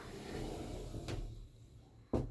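A sliding barn-style pocket door running on a bottom track gives a faint rumble and brief knock, then a sharper close. The setting is a quiet kitchen.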